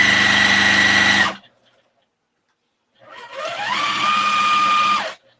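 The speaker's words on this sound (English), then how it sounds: "Always back stitch pockets." A sewing machine back-stitching a pocket on a shopping bag runs in two loud close bursts, a short whine, a pause of silence, then a longer run whose pitch rises and holds.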